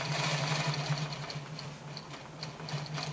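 A quilting machine runs a pantograph pattern across a quilt, its motor humming steadily with a light, regular ticking of the needle throughout, close and unbroken, with no talking.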